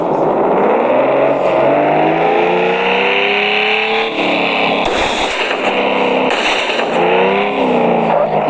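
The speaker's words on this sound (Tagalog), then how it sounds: "magte-test driving tayo ng mga suspension ng mga kotse nito dito" Cars revving and accelerating on a suspension test drive, a loud continuous engine drone rising in pitch through the gears, close and dominant throughout.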